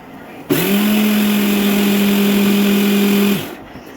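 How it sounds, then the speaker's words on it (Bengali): A kitchen mixer grinder runs loud and steady for about three seconds, grinding potato with black pepper and cumin, its motor whine starting abruptly and cutting off cleanly with no talk over it. "এবার ওটা মিক্সিতে আমি পিষে নিচ্ছি"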